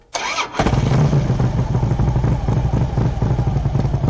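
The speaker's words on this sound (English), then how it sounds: "Let's give her a quick listen these Rineharts." A 2007 Harley-Davidson FLHX Street Glide with Rinehart aftermarket exhaust cranks and fires up, then settles into a loud, deep, throbbing idle with a rough, burbling exhaust close by.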